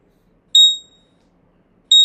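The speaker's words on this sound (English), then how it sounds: "another alarm" Two sharp, high electronic alarm chimes ring out about a second and a half apart, each fading quickly, in an otherwise quiet room.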